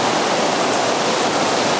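A waterfall pours steadily in an outdoor setting, a dense, continuous broadband rush of falling water with no pauses, loud and close.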